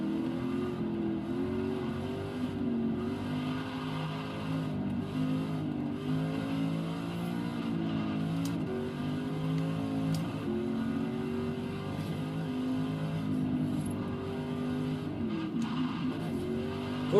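A Corvette GTLM race car in Forza Horizon 3 roars loud and steady at high revs, engine pitch rising and dipping through gear changes, with a few brief tire squeals, heard alone without talk.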